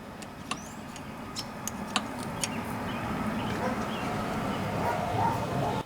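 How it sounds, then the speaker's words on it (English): Small dachshunds barking somewhere up the street, a string of sharp, distant yaps scattered through the first half over a steady outdoor background hum. "Killer wiener dogs up the street, can you hear them?"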